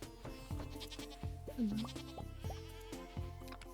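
Goats bleating in the farming video game Stardew Valley, a brief wavering bleat rising over soft, steady background game music with plucked notes, fairly quiet.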